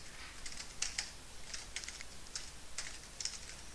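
Keys tapped on a computer keyboard in short, irregular clusters of soft clicks, close and fairly quiet against a faint steady background hiss, with no talking.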